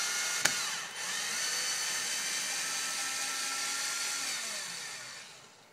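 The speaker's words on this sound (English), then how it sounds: "This is a Porter Cable 840 drill." A small Porter Cable 840 cordless drill, run from a lithium polymer RC battery, whirs steadily at high pitch after a sharp click, holding its whine for several seconds before winding down.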